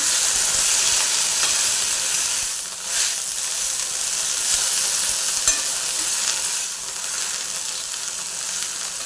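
Tender chickpea leaf greens fry loudly on a pan, a dense continuous hiss and sizzle with stirring scrapes, close up and without speech.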